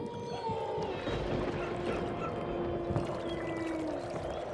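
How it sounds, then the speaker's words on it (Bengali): A boatman rows a boat with oars across a river at a ferry landing on a cold, cloudy night, giving a steady, continuous wash of water and oar movement throughout, with no talking. "মাঝিটা কোনো শব্দ না করে ধীর গতিতে নৌকার দাঁড় টানতে থাকে।"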